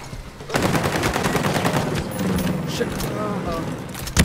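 Gunfire in the video game Ghost Recon Breakpoint, rapid repeated shots in bursts under steady layered game noise, fairly loud, with a brief loud hit at the end and no clear talk.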